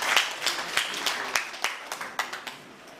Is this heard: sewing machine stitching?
no